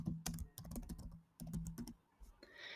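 Quick, uneven bursts of key clacks as a resume title is typed on a computer keyboard, close and clear with short pauses between runs of keystrokes.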